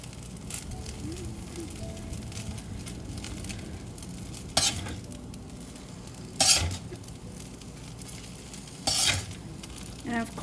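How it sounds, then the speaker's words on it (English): Vermicelli noodles with bean sprouts stir-fried in a pan, with a steady sizzle under repeated stirring scrapes and a few louder clanks of the utensil against the pan, close by. "I'm going to add in my bean sprouts. And I'm going to give it another go at mixing it."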